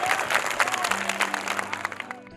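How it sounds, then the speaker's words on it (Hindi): Schoolchildren at a college function in Etah, Uttar Pradesh, clap enthusiastically after a patriotic song, heard as a dense burst of applause with some crowd noise that tapers off toward the end. "गाना सुनने के बाद बच्चों ने खूब तालियां बजाई।"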